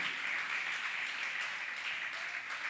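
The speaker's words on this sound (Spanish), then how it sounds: "dale una ofrenda de palmas al Señor" A church congregation claps during a Spanish-language worship service, giving an offering of applause: steady, even clapping throughout, moderately loud and somewhat distant, with no voices over it.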